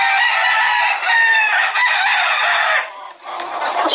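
Many roosters, around forty-five in one yard, crow over one another in a steady loud chorus with clucking, which thins slightly near the end.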